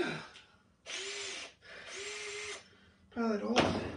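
A power drill boring a pilot hole for stabilizer screws on a Moken 12.5 V2 kayak, heard as two steady whirring bursts of about a second each, followed by a rougher, louder burst as the bit bites in.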